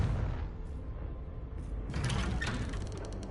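Confringo fire-blast spell in Hogwarts Legacy: a deep rumbling boom gives way to a crackling, sizzling burst, loud and close, with no voices.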